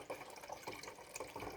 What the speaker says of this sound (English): I'll just put this other litre of water in.